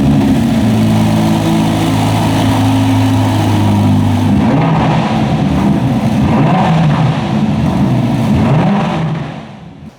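Ferrari Roma Spider fitted with optional steel tailpipes, its engine burbling loud and steady close by with a deep rumbling exhaust note, fading out at the very end.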